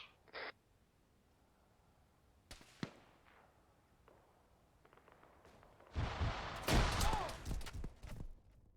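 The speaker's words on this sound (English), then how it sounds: "They're throwing frags, they're in India 5 now" Frag grenade explosions in the military video game Arma: a few sharp, loud bursts, the heaviest cluster a broad, rumbling blast near the end, with scattered cracks and faint distant pops between.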